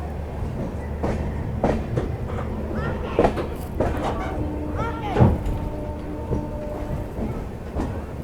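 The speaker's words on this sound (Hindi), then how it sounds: "अपनी ट्रेन निकल चुकी है भदोही रेलवे स्टेशन से भी" The Garib Rath Express pulls out of Bhadohi railway station on its Delhi to Varanasi run, with rhythmic wheel clacks over rail joints, occasional clanks and a brief squeal at moderate loudness, and voices talking faintly in the background.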